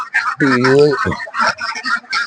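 Ducks crowded into a coop where eggs lie scattered, calling loudly and repeatedly from close by in a busy, overlapping clamor with harmonic quacking cries.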